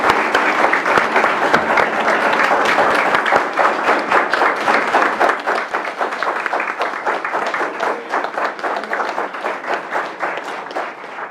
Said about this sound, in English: Let's give our principals a round of applause